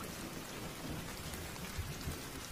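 Steady rain hisses evenly throughout, a dense wash of drops with faint low rumbles underneath.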